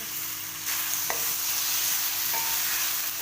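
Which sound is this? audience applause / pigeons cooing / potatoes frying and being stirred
potatoes frying and being stirred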